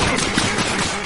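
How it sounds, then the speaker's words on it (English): A dense, roaring explosion from the Minecraft Dungeons video game, loud and sustained with crackling rumble filling the whole moment, no talk over it. "That's a good explosion."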